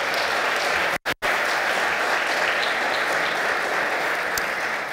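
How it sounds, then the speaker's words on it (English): Sustained audience applause filling a hall during a city's State of the City address in Jersey City, steady and dense, with a brief dropout near the start. "Tony, clap."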